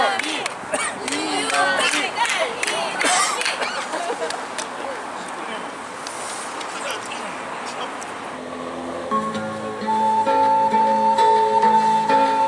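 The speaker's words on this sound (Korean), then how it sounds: "큰 박수로 맞이해주십시오." A crowd at a Progressive Party street rally in Gyeongju, South Korea, claps and cheers with scattered shouts and voices for several seconds, before music with a sustained melodic tone comes in near the end.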